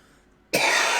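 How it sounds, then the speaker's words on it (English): A single loud, sharp cough bursts out after near silence and carries on as a rough, broad sound to the end. "I see him cough and I go grab him a drink."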